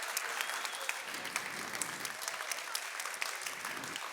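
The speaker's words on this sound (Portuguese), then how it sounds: "eu queria que vocês, por favor, fizessem esse carinho de dar uma salva de palmas também" Audience applause at a food film festival cooking show in São Paulo, a steady wash of many hands clapping close by, sustained for several seconds without talk.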